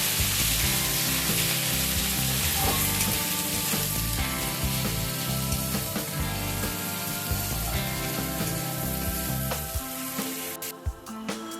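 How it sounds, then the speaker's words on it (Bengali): Spices and chilli sizzle and fry in a pan while being stirred, a loud, continuous crackling hiss with scraping stir strokes, close by and without speech. "এবার সমস্ত কিছু একসাথে ভালোভাবে বেশ কিছুক্ষণ সময় নিয়ে একটু নাড়াচাড়া করে নেব।"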